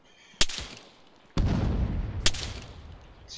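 Gunfire in the video game Arma 3, in a British Army patrol in Sangin: three sharp, loud shots spaced about a second apart, the second followed by a long rumbling echo.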